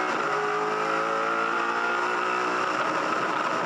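A 2003 V8 Supercar engine howls at its rev limit during a race at Eastern Creek, a loud sustained high-pitched roar with steady harmonic tones holding for several seconds, close to the car with no talk.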